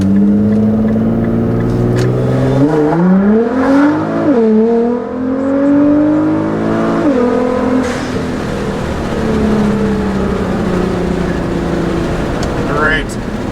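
A tuned 2015 Nissan GT-R with a Meisterschaft exhaust and GFB blow-off valves pulls hard from inside the cabin, its engine note climbing through several rising sweeps with brief dips at each gear change, loud and continuous throughout.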